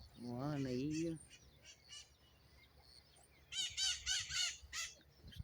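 Birds call outdoors among garden plants: a rooster-like crow opens, then a pause with faint chirps, followed by a cluster of bright, rapid chirping notes close by.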